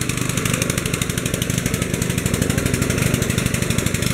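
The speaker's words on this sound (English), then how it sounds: "he's got that lawnmower engine mounted underneath that pulley, and they've got a little head on it that takes the coconut and grinds it out of the coconut shell" A small lawnmower engine running a coconut-grinding machine at a street festival in Pavia, Iloilo, Philippines: a steady, loud, rapid mechanical chugging drone with rattling, continuous throughout and without speech.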